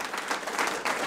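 An audience at a Dutch housing discussion breaks into brief applause: dense, full clapping that swells slightly across about a second, with no voices over it.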